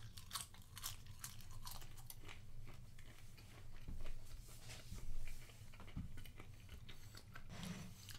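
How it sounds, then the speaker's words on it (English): Close crunching and chewing of a strip of crispy bacon cooked in an air fryer, with repeated crisp bites over a low steady background and no talk. "The bacon has a nice crispness to it"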